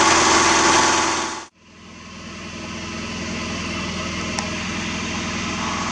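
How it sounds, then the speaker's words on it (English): Engine driving a newly built torrefaction system runs at a steady idle, loud and close with a constant droning hum, broken by one abrupt short dropout before the drone resumes smoothly. "The engine is running very nicely indeed. It's running very smoothly."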